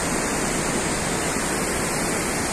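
Waterfall at Thikri pouring beside a large canal, a loud, unbroken broadband rush of falling water that holds steady throughout, with no voices.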